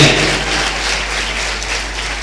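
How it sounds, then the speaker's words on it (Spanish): Applause from a church congregation during a service, a loud, continuous spread of many hands clapping over a low steady hum, with no talk above it. "un fuerte aplauso, a la gloria"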